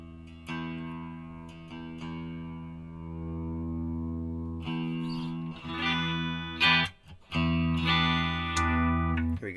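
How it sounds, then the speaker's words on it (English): Electric guitar, played with clean tones: sustained ringing chords and notes with rich harmonics, loud and close, with a few new strums and a brief choked break near the middle, no talking. "So we'll start with some clean tones here right off the bat."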